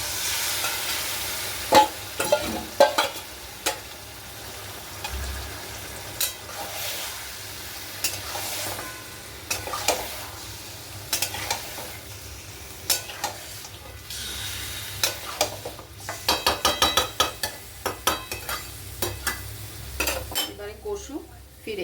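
Mutton pieces sizzling in a hot pot on a medium gas flame for a light bottle-gourd curry, with a spoon repeatedly scraping and clinking against the metal as the meat is stirred, steady close frying under the clatter.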